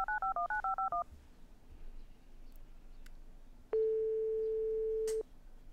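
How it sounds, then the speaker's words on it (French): A telephone number is dialed as a quick run of about nine touch-tone beeps, then a pause with faint room noise and a single long steady tone on the line, clear and close. "Alors on va contacter tout de suite notre ami le Wallon"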